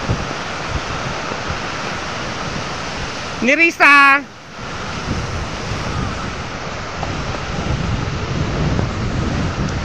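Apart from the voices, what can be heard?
strong waves crashing at a river resort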